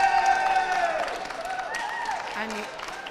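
Supporters at a local election count in Waterford cheer and clap for an elected Fianna Fáil councillor, a loud crowd roar that fades slightly while a voice talks over it.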